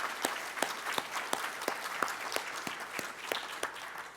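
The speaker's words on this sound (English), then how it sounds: "let's do a round of applause" A room of people claps for Mayor Vincent Gray at a community civic association's 25th anniversary gathering. Sharp, separate handclaps repeat at a fairly even pace over a softer bed of scattered clapping, moderately close.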